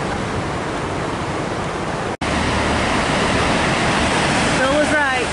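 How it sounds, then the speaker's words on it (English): Firehole Falls in Yellowstone gives a loud, steady roar of rushing water heard up close, a continuous broadband wash with a brief cut midway and a faint voice near the end. "Big Waterfall. Probably Firehole Falls,"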